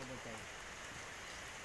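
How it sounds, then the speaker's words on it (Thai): Rain falls in a steady, even hiss of drops on surfaces, continuous and moderately quiet with no clear gaps, and a brief low murmur of sound near the start. "ฝนตก ฝนก็ตกเงี้ยนี่แหละ"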